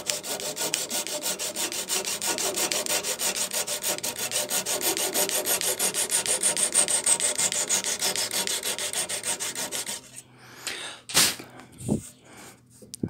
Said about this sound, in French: ça supprime les bavures et les chutes, surtout les bavures qu'on a au perçage